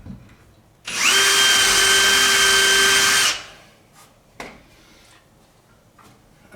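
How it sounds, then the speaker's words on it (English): A power drill whirs loudly and steadily for about two seconds drilling holes during a pipe organ restoration, then stops, followed by a few faint clicks and handling knocks. "So we're going to drill these as if it's new."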